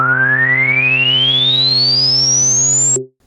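Dave Smith synthesizer filter swept smoothly upward with envelope amount applied, a steady sustained tone with a resonant peak gliding from low to high over about three seconds before cutting off, loud and alone.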